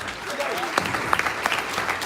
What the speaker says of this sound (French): on doit applaudir pour cela.